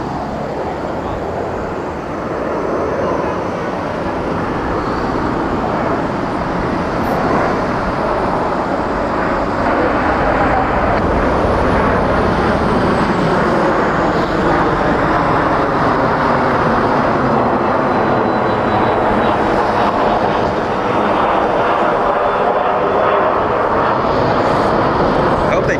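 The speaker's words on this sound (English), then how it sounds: "Little Embraer Phenom that just took off." Embraer Phenom business jet taking off at Toronto Pearson Airport, heard as a steady, loud broadband jet roar with a slowly shifting tone that holds for the whole stretch, mixed with wind and outdoor noise.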